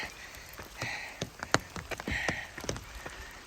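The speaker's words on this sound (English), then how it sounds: "The rain picked up." Rain patters steadily on a surface along the Kilauea Iki Trail in Volcanoes National Park, Hawaii, with scattered sharper drops landing close by, soft and continuous with no one speaking.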